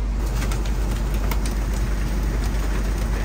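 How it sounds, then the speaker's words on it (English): Heavy rain pours down on and around a converted car hauler bus, a dense, steady, loud roar of drumming water that fills the scene with no break and no voices. "I would say above average rain. Not full on monsoon, but pretty heavy rain."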